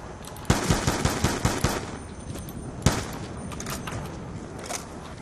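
Gunfire from an M14 rifle and Olympia shotgun in Black Ops 2 Zombies: a rapid string of about six sharp shots, then a pause and a single loud blast, followed by scattered fainter shots.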